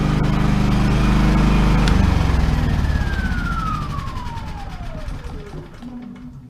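A Champion inverter generator runs loud and steady nearby, then is switched off, its engine note sliding down and fading to stillness, with someone speaking briefly over it.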